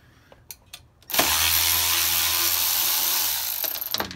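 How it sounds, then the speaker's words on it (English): A Milwaukee power ratchet runs in one steady whir for about three seconds while loosening nuts on AP Racing brake rotor rings, preceded by a few brief clicks and fading slightly at the end. "power ratchets, get one. It'll become your favorite tool."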